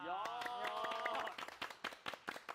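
A small crowd claps at a game showcase announcement, quick uneven claps rising after a stretch of speech and continuing in scattered bursts.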